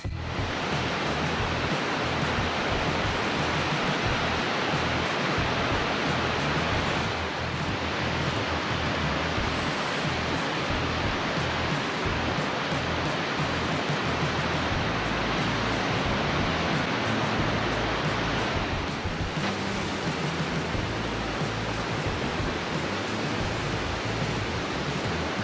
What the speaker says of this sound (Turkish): Sıradaki görüntülerde ise büyük barajın oluşturduğu yapay şelaleyi ve suyun akışını izleyeceksiniz